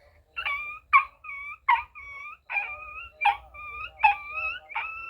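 A nine-year-old child imitates a dog whimpering after being struck, producing seven short, high-pitched yelping whines in a steady series. The cries are close and clear over near silence.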